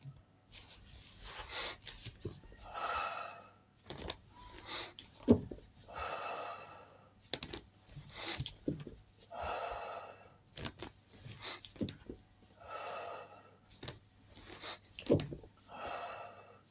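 Heavy rhythmic breathing during repetitions of Tibetan exercises while lying on the back: a series of close, audible inhales and exhales with puffs and sighs, steady and regular with short pauses between breaths.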